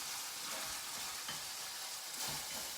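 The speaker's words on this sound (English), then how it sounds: "Our pork is just about done. So the next thing we'll put in is our shrimp." Pork and shrimp fry in a pan with a soft, continuous sizzle and faint stirring noises, quiet and steady with no talking.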